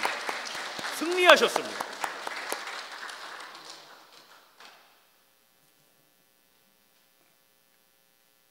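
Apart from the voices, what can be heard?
congregation applause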